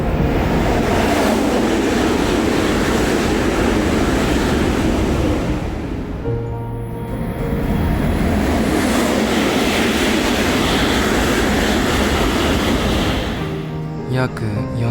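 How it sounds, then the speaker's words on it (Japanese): Shinkansen bullet trains rushing past a station in Niigata one after another, a loud continuous roar and rumble that swells, briefly dips, then builds again as another train passes close by. "その後も僕を嘲笑うかのようにたくさんの新幹線が通過していった"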